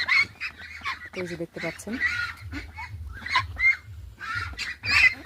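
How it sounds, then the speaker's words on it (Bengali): Ducks on a duck farm give scattered, loud quacks and honks across the scene, close by and mixed with someone talking over them. "আমি একটু এবার হাঁসগুলোকে উঠিয়ে দেবো আপনাদের দেখানোর জন্য"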